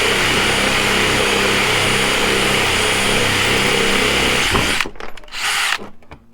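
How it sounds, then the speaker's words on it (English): A DeWalt drill with a small bit boring into a bin whines steadily at close range for several seconds, then cuts out, followed by a few brief knocks and a short final whir. "Nearly did drill through the bin, but it didn't drill through the bin."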